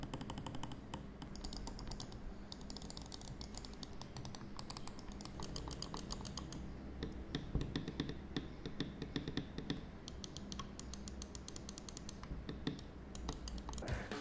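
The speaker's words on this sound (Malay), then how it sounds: "Bunyi klik yang sangat jelas and tak perlu tekan kuat sangat lah." Corsair M65 and Sabre RGB gaming mice: dense, rapid sharp clicks of mouse buttons being pressed repeatedly over a quiet background, close and continuous with no talk.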